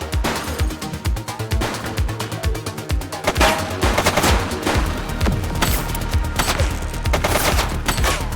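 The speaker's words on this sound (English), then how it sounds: "He's shooting!" Rapid gunfire from a police shootout in The Precinct, a dense, loud stream of repeated shots and bursts that runs through the whole stretch with almost no pause, close and dominant.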